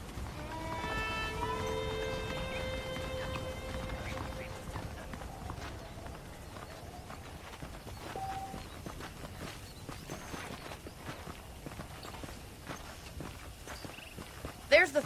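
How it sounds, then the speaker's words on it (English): Horse hooves and footsteps in the Red Dead Redemption video game, soft repeated clip-clop steps running under in-game speech and a brief musical chime. "The horses are saddled up over here."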